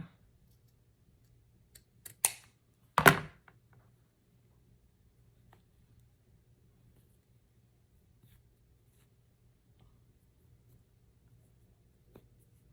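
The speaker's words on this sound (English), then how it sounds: "I'm going to cut off this extraness that's right here." Scissors cutting excess fabric off a children's braided headband: a couple of quick, sharp snips close by, then long quiet with a few faint ticks, no talk.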